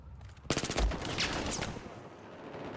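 Rapid automatic gunfire in Battlefield 4 bursts in abruptly, a loud close stream of evenly spaced shots over about a second, then fades into lingering rumble and hiss.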